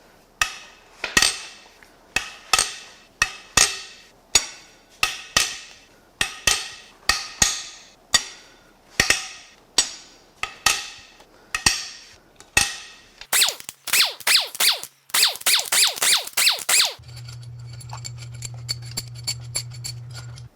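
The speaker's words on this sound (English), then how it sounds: "Let's crack these head bolts loose." Cylinder head bolts on a torture-tested Ford 4.6L Modular 2V engine are cracked loose with a wrench, giving a run of sharp metallic snaps and ratcheting clicks close up, followed by a quicker burst of rapid clicking.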